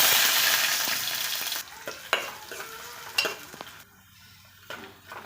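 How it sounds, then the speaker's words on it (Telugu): Onions with cumin seeds frying in hot oil in a bowl-shaped pan: a loud sizzle at first that drops away, then scattered clinks and scrapes of a metal spoon stirring against the pan, close by. "చూడండి, ఉల్లిగడ్డలు కొంచెం ఫ్రై అయ్యాయి కదా"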